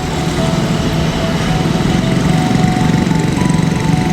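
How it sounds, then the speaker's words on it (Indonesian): Motorcycle engines idle and rumble steadily near a container-built hotel in IKN as riders arrive, a loud continuous buzzing drone with no break. "ini ada lagi yang berdatangan dengan mengendarai motor"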